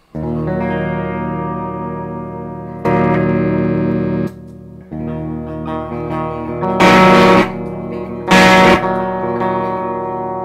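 An electric guitar through a Monoprice 611600 distortion mini pedal on its clean setting rings out with clean, sustained chords, several strums layered with slight effects, and a couple of louder scratchy strikes near the end.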